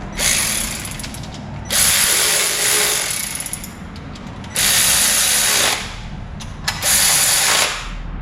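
Tightening bolts on the engine mount of a 1966 Plymouth Belvedere with a ratchet, loud runs of clicking and whirring in three or four bursts with short pauses between.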